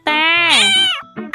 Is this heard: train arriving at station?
no